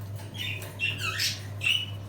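Budgerigars in a home breeding cage give a few sharp squawks and chirps close by, with a steady low hum beneath.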